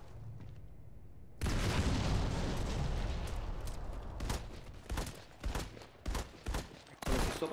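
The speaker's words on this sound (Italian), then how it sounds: "Altra granata" A grenade in the online shooter Modern Combat 5 goes off with a sudden loud, rumbling blast after a quiet start, decaying into a roar and then a series of sharp gunfire bursts.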